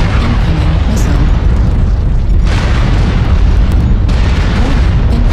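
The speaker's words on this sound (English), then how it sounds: "Warning incoming missile." A missile blast in a video game's faction battle on the Sulfurous Rift map, heard as a loud, sustained low rumble of booms with bursts of crackling debris, filling the clip continuously without any speech.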